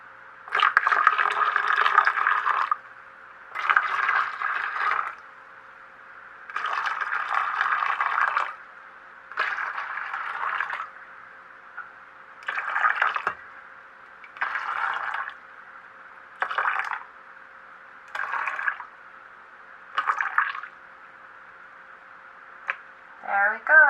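Unsweetened tea is poured back and forth between two containers to even them out, a series of about ten bursts of liquid splashing and trickling, each a second or two long, separated by short quiet gaps.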